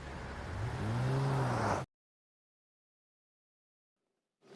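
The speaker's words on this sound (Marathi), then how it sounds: "जय, गाडी थांबव." A car engine revs in a loud whirring surge that rises in pitch, then stops abruptly and leaves near silence.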